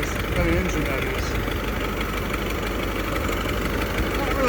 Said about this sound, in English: I don't know what kind of motor that is, what kind of engine that is.